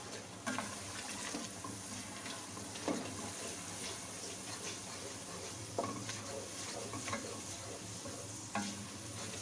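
Ground masala stirred in a pan for mutton kofta curry, a steady sizzle with scraping strokes and occasional spoon knocks against the metal, close and continuous with no talk.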